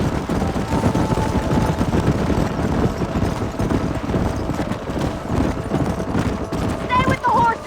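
Horses gallop in a dense, steady clip-clop across a canyon in the Western video game Red Dead Redemption, with gunfire bursts mixed through a loud, busy game soundscape and a brief high whistle-like call near the end.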